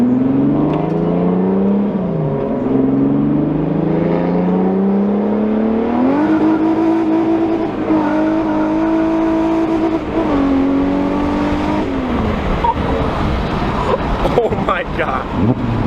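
Car fitted with a junkyard engine accelerating hard through second, third and fourth gear, loud rising engine whine with pitch drops at each shift, heard from inside with occasional voices.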